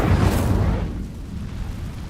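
A fiery Incendio spell bursts out in Hogwarts Legacy, a loud whooshing boom that fills the first moment, then a rumbling burn fading over the next second and a half.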